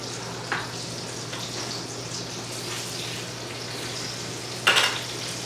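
Pork chops frying in butter and canola oil in a pan give a steady, moderate sizzle that runs throughout, with a brief louder burst of crackle near the end; no talking.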